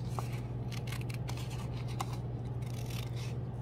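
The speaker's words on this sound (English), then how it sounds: "I'm going to take my scissors and I'm just going to cut while the paper is folded." Scissors snip steadily through folded paper, a close, quiet run of crisp cuts and rustling over a low background hum.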